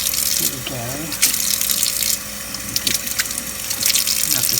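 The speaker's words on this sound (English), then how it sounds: "Let's turn off the water so people don't freak out" A bathroom sink tap runs water in a steady, fairly loud gush close by, with a voice speaking over it briefly.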